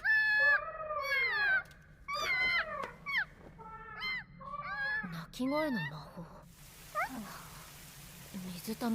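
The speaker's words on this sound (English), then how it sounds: "Is that a cat?" A cat meows repeatedly in a series of rising and falling calls, some drawn out like a caterwaul, loud and close. Brief quiet gaps separate the calls, and a burst of noise comes near the end.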